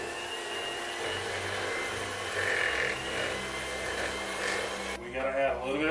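Electric stand mixer running on low speed through chocolate chip cookie dough, a steady whirring motor hum that continues throughout, with people talking over it.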